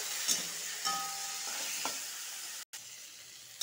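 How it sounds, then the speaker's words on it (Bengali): Fish seasoned with salt and turmeric fry in a pan, producing a steady hiss of sizzling oil with a few light stirring knocks and one brief dropout, fairly quiet with no voices. "ভেজে নিব।"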